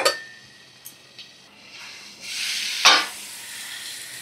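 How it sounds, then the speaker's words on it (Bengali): Vegetables cook with salt and turmeric in a pan, making a soft sizzle with a few light clicks of stirring that swells into a louder hiss, then a sharp crackling burst before settling back to a steady fry. "দেখো নুন হলুদ দিয়ে একটু ভাজা করে নিই"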